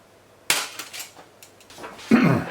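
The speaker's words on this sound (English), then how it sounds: "I hammer it between two blocks of wood to get it as smooth as possible." Aluminium sheet hammered flat between two blocks of wood, giving a sharp metallic strike, a few lighter follow-up taps, then another loud bright hit near the end, close and alone.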